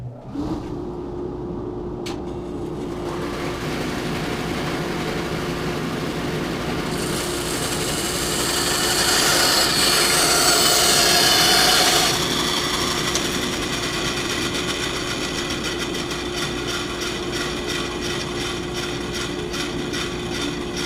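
Bandsaw with a new blade cutting a large wooden bowl blank held in a circle-cutting jig, a steady motor hum with a sustained tone, and a louder, brighter cutting hiss swelling in the middle of the run.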